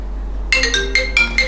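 A mobile phone ringtone rings inside a home, sounding as a run of bright, repeating chime bursts in a steady rhythm after a short quiet start. No one speaks.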